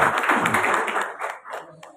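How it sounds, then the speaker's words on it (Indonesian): An audience at an Islamic religious education teachers' group (KKG PAI) gathering in Semarang Barat claps for the group: a brief, dense burst of applause that softens and breaks into a few scattered claps near the end. "Tepuk tangan untuk KKG Semarang Barat"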